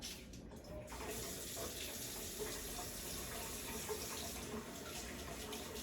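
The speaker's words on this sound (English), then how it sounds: "let me add a little bit of water to this" Hot water pours steadily into a pot of tomato paste while oxtails cook, a continuous close splashing and trickling rush with no talking.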